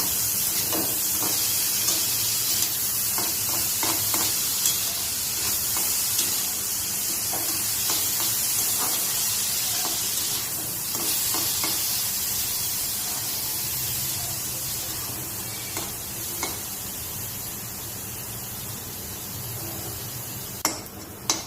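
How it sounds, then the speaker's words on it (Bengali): Carrots and capsicum with a pinch of salt frying in a pan for white sauce pasta, a steady hissing sizzle that runs throughout, with occasional faint stirring clicks and no voices. "আমাদের গাজর আর ক্যাপসিকামটা লাল লাল ভাজা হয়ে গেছে"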